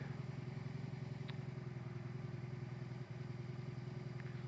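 A 2023 BMW R18 B motorcycle's big boxer engine idles steadily and close by, a deep continuous low rumble with a slight dip near the end, with no talking over it.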